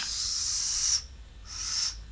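Air blown through a whistle made from pasta gives two breathy, high hissing tones, each about a second long with a short gap between, faint and airy rather than clear.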